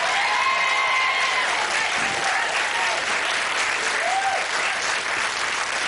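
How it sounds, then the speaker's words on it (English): A studio audience on the 1992 quiz show Blockbusters gives the contestants a full round of applause, a dense and loud wash of clapping that holds steady throughout. "another big round of applause, please, this time for Richard,"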